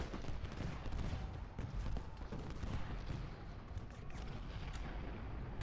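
A Civil War firefight in the video game Ultimate General Gettysburg: dense, continuous rifle volleys crackle and rumble without a break, steady and fairly loud, with no voices.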